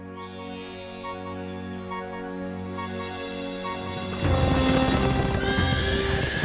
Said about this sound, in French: Salomon possédait des milliers de chevaux.